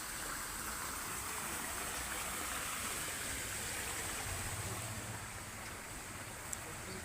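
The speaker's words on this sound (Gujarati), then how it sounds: "આ છે નદી પણ જુઓ તમે" A river flows steadily over a check dam beside a riverside temple, producing a constant, moderately loud rushing wash with no pauses.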